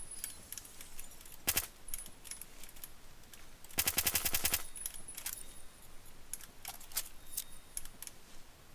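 Suppressed gunfire in the Phantom Forces shooter game comes as a short burst, then a longer rapid volley of muffled shots, with scattered clicks between them at moderate loudness.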